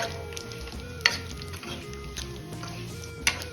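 Dry fruits sautéing in a pan for rice kheer, a close, continuous sizzle with stirring scrapes and two sharp clinks of a spoon against the pan.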